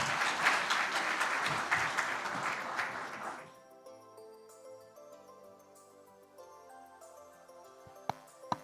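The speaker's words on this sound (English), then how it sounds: "A stronger round of applause, please." Loud audience applause fills a Ugandan convention hall for about three seconds, then dies away abruptly, leaving quiet music with a couple of sharp taps near the end.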